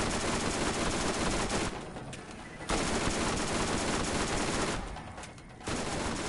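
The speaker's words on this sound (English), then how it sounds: "I'll get out my SMG and pop him with that" Rapid sustained SMG fire in the Borderlands video game, loud and continuous in two long bursts with short pauses between them.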